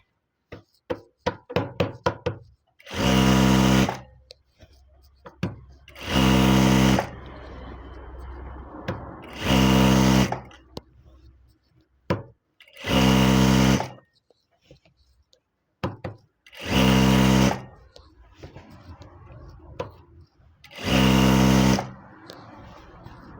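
A sewing machine stitching a fall onto a saree runs in about six loud, steady bursts of a few seconds each, separated by quieter handling sounds and someone speaking up close.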